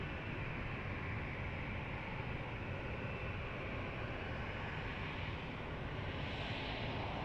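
Steady broadband roar of Boeing 737-800 jet engines at Lisbon Airport, constant and fairly distant with a slight swell toward the end.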